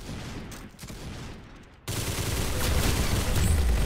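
Rapid, dense gunfire in the shooting game Arsenal, heard as a sustained volley of crackling shots that gets louder and fuller partway through, with no voices.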